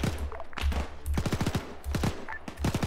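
Rapid bursts of automatic gunfire in a military video game operation, with dense rattling volleys and scattered single shots, loud and near, overlapping one another.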